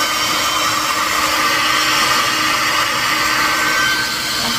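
Hair dryer running steadily at close range, a loud continuous blowing whir with no pauses and no talk over it.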